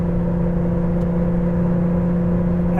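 A 1983 Porsche 911 engine drones steadily at half throttle while climbing a hill, a loud, even hum from inside the car that holds its pitch and rises only gently.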